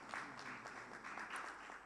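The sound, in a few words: audience applause for a professor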